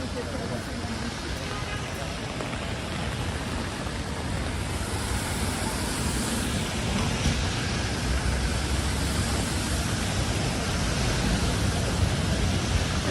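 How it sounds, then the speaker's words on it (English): Steady rain in New York City, a dense, loud wash of hiss and patter that continues unbroken throughout, with a low street rumble mixed in. "rain in New York City always reminds me of Blade Runner"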